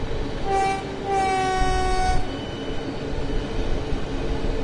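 Javelin high-speed train in the Train Sim World 2 video game sounding a two-tone horn blast twice in quick succession over a steady rumble of rolling rail noise that continues after the horn stops.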